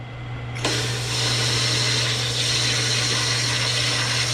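A metal lathe starts cutting a shallow pass of about 90 thousandths on a part for a Farmall Super C tractor. A steady mechanical hum runs under a sudden, continuous bright hiss of cutting that carries on at constant loudness.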